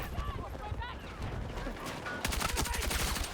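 SG 553R rifle fire in Battlefield 6 crackles amid busy battlefield noise, with scattered shots early and a tight rapid burst near the end, while voices talk over the action.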